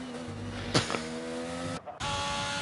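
A McLaren race car in an F1 racing video game sweeps past with a steady, loud engine drone, a quick pitch-shifting whoosh as it goes by, then a brief drop before the engine note resumes.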